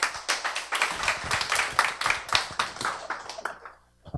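An audience claps to welcome the next speaker, a breast cancer survivor, at a storytelling event, with brisk close claps that thin out and stop near the end.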